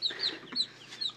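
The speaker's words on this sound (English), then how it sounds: "right now we just gave a moth to a bunch of baby chickens" A bunch of baby chickens peep and cluck in quick, high-pitched chirps, several close-up calls over a quiet background.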